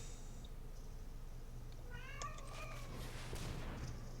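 A pet cat lets out a single drawn-out, wavering meow midway through, faint and slightly distant over a low steady background hum, followed by quieter shuffling noise.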